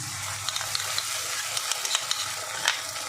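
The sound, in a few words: cashew and melon seed paste frying with spices in pan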